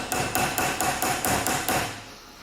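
Seven sharp, evenly spaced metal hammer blows strike a chisel driving a differential arm bushing out of a Toyota Sienna AWD, close and loud, with a brief ringing decay after the last strike.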